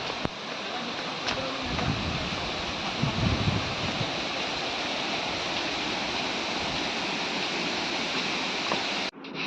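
The Bada Ghagara waterfall roars in a steady, loud, broadband rush of falling water that fills the whole scene, with a few faint voices barely under it.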